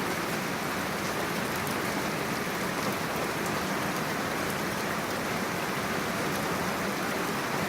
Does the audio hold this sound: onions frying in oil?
no